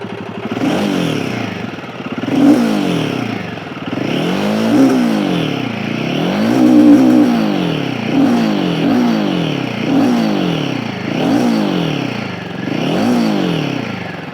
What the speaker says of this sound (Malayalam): നമ്മുടെ നേരത്തെ ഉണ്ടായിരുന്ന ഹിമാലയൻ്റെ ആ ഒരു തമ്പ് സൗണ്ടൊക്കെ മാറിയിട്ട് വേറൊരു സൗണ്ടിലേക്ക് പോയിരിക്കുകയാണ് പുതിയ ഹിമാലയൻ 450.